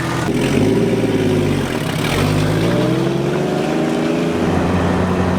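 A vehicle engine drones steadily while cruising, its pitch dipping and rising smoothly as the revs shift, loud and close with no voices.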